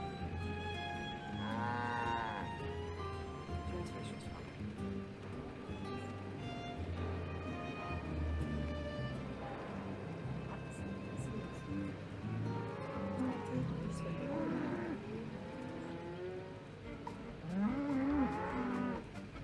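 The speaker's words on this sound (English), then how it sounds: "Darn cow's still there." A cow moos repeatedly in the Nancy Drew: Secret of the Old Clock video game, with several drawn-out, wavering bellows over a steady ambient game background, fairly close and prominent.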